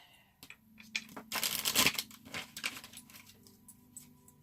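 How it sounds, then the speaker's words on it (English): Tarot cards shuffled by hand during a card reading, a close crisp riffling and flapping burst in the middle with lighter papery shuffles before and after. "let me shuffle the cards a little bit"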